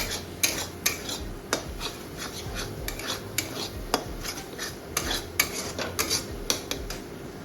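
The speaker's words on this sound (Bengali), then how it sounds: "আর ডিমটাকে ঝুরি করে ভাজা করে নেব" A utensil scrapes and taps rhythmically against a pan as egg is stirred and scrambled for chow mein, with a faint sizzle underneath and no talking.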